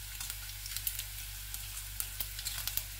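Whole chillies sizzle and spit in hot oil in a pan, a steady soft frying hiss broken by scattered small pops, close and fairly quiet with no talking.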